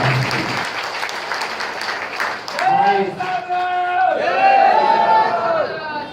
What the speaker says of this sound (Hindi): एक बार इन लोगों के लिए जोरदार तालियों से स्वागत होगा